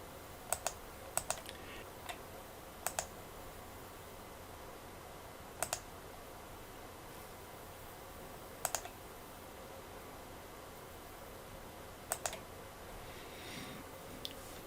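Keys pressed on a calculator keypad while setting up an inverse sine calculation, a handful of sharp, isolated clicks spaced irregularly over a quiet room background, some in quick pairs, with no talking.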